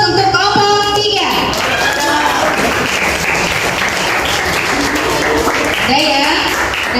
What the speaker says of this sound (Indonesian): Sekali lagi kita kasih aplaus untuk kelompok 3.